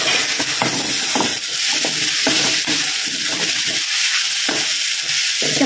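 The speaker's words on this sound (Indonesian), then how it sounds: "bolehlah kita tuangkan cuka anggaran dalam satu sudu" Vinegar poured into a pan of rohu fish sambal with lemongrass, sizzling steadily with stirring scrapes and soft splashing close by, a continuous fry hiss throughout with no one talking.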